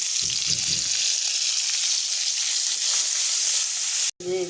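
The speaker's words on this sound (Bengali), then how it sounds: "সুন্দর করে ভেজে নেই" Rohu fish fries in hot oil with a loud, steady crackling sizzle, joined by some low scraping at the start and cut off by a brief break just before the end.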